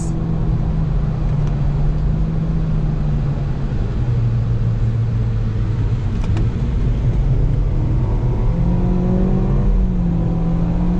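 A 2023 Acura Integra A-Spec accelerates hard, its engine note rising in pitch, dropping at quick gear shifts, then climbing again, a loud steady whir from inside the cabin.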